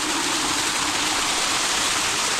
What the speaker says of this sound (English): That is water from the upper tank, or rather from the tank.